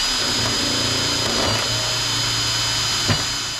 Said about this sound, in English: so we'll drill her out